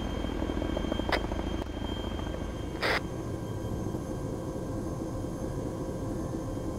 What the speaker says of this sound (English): It's a remarkably empty helicopter.